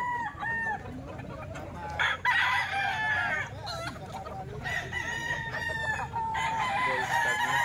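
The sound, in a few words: young gamecock stag crowing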